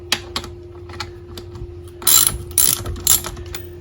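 A 9/16 socket ratchet loosening the tilt bolt on a vintage Johnson Evinrude outboard motor bracket, with a few sharp clicking ratchet strokes at close range and some metallic handling noise between them.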